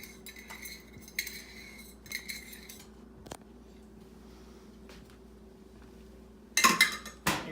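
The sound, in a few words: whisk stirring seafood au gratin mixture in a pan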